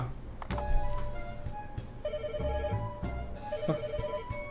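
Phone ringing while calling a taxi in a video game, electronic ring tones repeating in short bursts over a faint background, with a few soft bumps and clicks.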